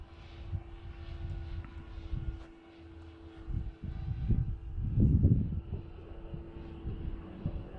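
A 3D-printed radio-control Panthera model airplane coming in to land, its engine drone steady and moderately distant, swelling louder as it nears, with wind noise and no talk.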